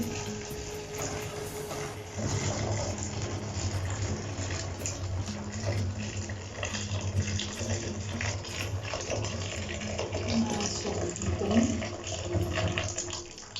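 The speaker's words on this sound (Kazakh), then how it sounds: "Содан кейін оның үстіне ыстық су құясыз." Boiling water pours from a kettle over laundry soap in a basin, a steady, close rushing gush that starts after a brief quiet moment and runs unbroken to the end.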